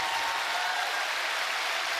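An audience at the Final Fantasy Fan Festival keynote in London applauds in a dense, steady wash of clapping that fills the whole moment without a break.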